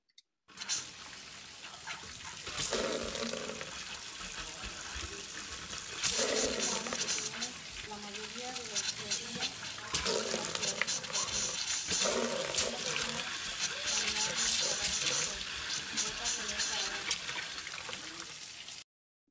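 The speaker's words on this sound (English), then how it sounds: "So this is how sometimes the water come out in some of these communities" Water gushes from a tap in a home within a community, a steady loud rushing and splashing stream that runs continuously with slight surges, with a voice faintly heard in the background.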